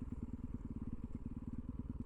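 Yamaha YZ450FX supermoto motorcycle idling after sitting for two years, its single-cylinder engine thumping in a fast, steady, loud rhythm close by, with no talk.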